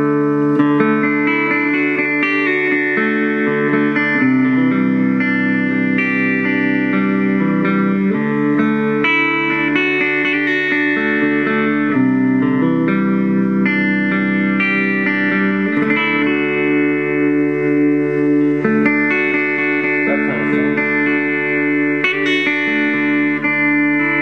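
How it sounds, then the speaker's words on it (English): A clean electric guitar plays chords with a shimmering, wavering chorus effect, sustained and ringing, played alone. "Another thing you do with clean sound is add a touch of chorus"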